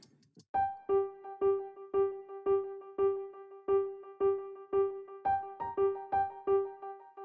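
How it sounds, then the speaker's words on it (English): A synth with reverb and delay on plays an evenly spaced string of bright, plucky repeated notes, each with a ringing tail, loud and alone in a neurofunk intro. "I have the reverb and the delay on it"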